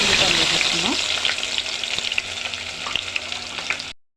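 Onions sizzling and frying in hot oil with spices for an egg curry, a loud, close, crackling hiss with a few stirring scrapes, cutting off abruptly at the end.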